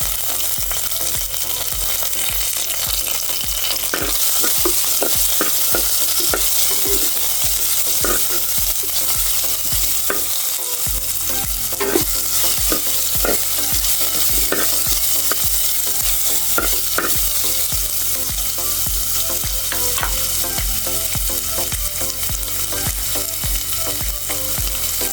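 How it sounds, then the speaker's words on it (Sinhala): Chopped onions and curry leaves stir-fried in hot oil in a pan, a steady close sizzle running throughout with frequent scraping stirs of a utensil, no voices. "ඊට පස්සේ තෙල් චුට්ටක් ලිපේ තියලා රත් වුණාට පස්සේ කපාගත්ත ලුණුයි කරපිංචා කොළ ටික එකතු කරගන්න"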